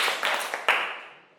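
Students in a classroom clap on command, giving a few quick close claps with a short roomy decay fading after the last one.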